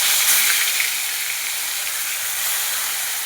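Fish pieces frying one by one in hot mustard oil, a steady, loud, broad sizzling hiss that holds evenly throughout with no voices over it.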